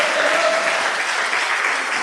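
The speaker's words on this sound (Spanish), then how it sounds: "Dale un aplauso al Señor." A Pentecostal church congregation claps together in praise, a loud, dense burst of many hands filling the room, with a faint sustained tone under it and no clear speech.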